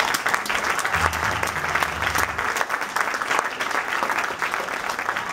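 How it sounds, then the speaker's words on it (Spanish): Audience applause for a student performer being invited onto a stage, steady clapping across the whole stretch with some low musical tones sounding under it early on. "un aplauso para él"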